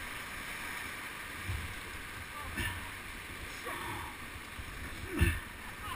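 A raft paddled down whitewater rapids, continuous rushing water with occasional heavier splashes and thumps of paddles, while people shout over the noise.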